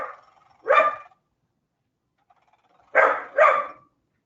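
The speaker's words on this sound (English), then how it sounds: "Maybe I should lock her up. Come here, Taylor. Come here, puppy." A young puppy barks three times, loud and close, one sharp yap followed after a pause by a quick pair, with silence in between.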